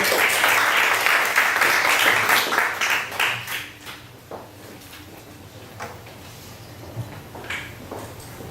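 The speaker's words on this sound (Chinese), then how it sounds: "那我们给这个学员来一个掌声鼓励" A room full of students and guests applauds a student's six-axis robotic arm project presentation, loud and dense at first, then thinning to a few scattered claps that die away.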